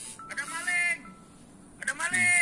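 Electronic alarm tones play from a small speaker driven by an MP3 module in a NodeMCU home security device, triggered when a door sensor detects the door opening; two bursts of synthetic tone are separated by a quiet gap.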